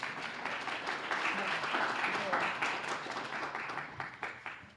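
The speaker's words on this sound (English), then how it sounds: "Let's give them a round of applause as they come." An audience at a plenary session applauds as speakers come on stage, with dense, sustained clapping from a sizable crowd that stays loud throughout and tapers slightly at the end.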